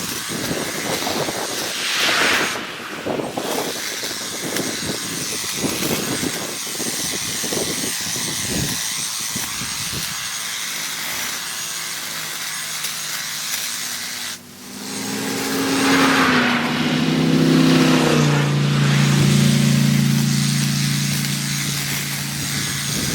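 A Kobalt 40V battery-powered hedge trimmer buzzes in bursts while cutting branches up to about half an inch thick, with snapping and rustling of twigs, then runs in a steadier, louder whine near the end.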